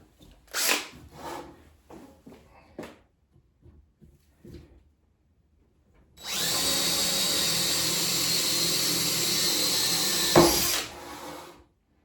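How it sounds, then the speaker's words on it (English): A few scattered knocks and handling sounds, then a power drill whirs loudly and steadily for several seconds drilling holes in wood before spinning down. "so let's drill these holes"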